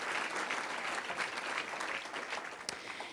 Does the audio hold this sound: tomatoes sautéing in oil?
no